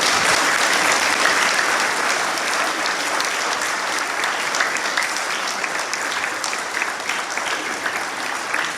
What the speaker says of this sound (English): Please can we give the staff a huge round of applause.